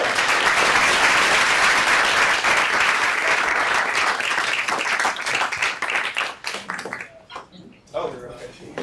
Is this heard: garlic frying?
no